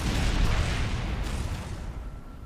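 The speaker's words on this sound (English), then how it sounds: "Explosion!" A loud, broad explosion in Kerbal Space Program, a plane blowing up with a heavy rumbling burst that slowly fades over a couple of seconds.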